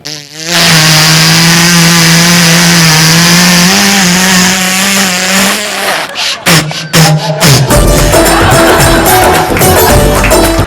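An electric drill bores a hole with a loud, close, steady whine that holds for about six seconds, then stutters in short bursts before giving way to rougher clattering noise.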